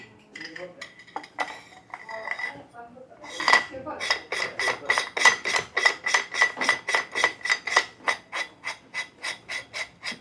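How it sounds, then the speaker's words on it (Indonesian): Metal parts of a replica rifle clicking and scraping against each other, beginning with irregular clinks and then a fast run of evenly spaced metallic ratchet-like clicks, close and moderately loud. "Pergesekan bunyi metal tuh enak banget bunyi teman-teman."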